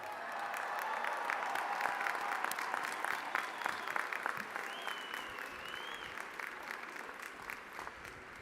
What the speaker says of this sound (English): please rise and cheer